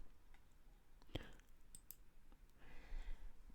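A computer mouse clicks once, sharp and close, with a second lighter click a moment later against faint room noise while working through a mail merge in an office program.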